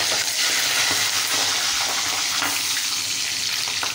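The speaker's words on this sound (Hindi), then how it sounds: "पहले मैं हरी मिर्ची डालूँगी।" Green chilies dropped into hot mustard oil, with turmeric, for a bhindi masala, giving a steady, loud, close sizzle of frying that fills the whole stretch without pause.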